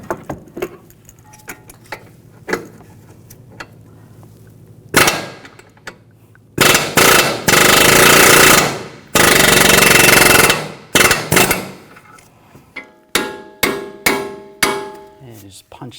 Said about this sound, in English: Now I'm just going to take a punch and just push up underneath the ball joint, push that through.